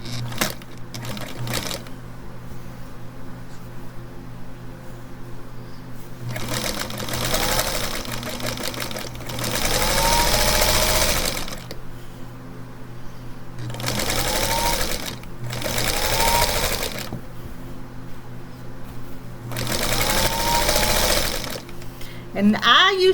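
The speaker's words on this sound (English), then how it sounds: "I'm gonna put this back under the sewing machine." A sewing machine runs in several short bursts of rapid stitching while attaching quilt binding ends, separated by quieter pauses with light handling sounds.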